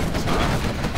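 Quad cannon unit in Command & Conquer Generals Zero Hour firing a dense, continuous burst of rapid cannon shots, loud and steady for the full second with no talk.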